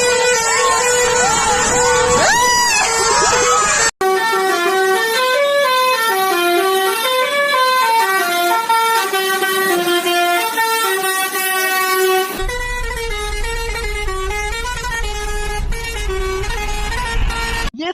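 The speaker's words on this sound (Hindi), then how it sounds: "कुछ लोग तो बाइक में ट्रक या बस का हॉर्न लगवा लेते हैं" Loud, sustained vehicle horns blare one after another: deep, tuneful truck and bus air horns honking in long melodic blasts, close and continuous, of a type banned in India.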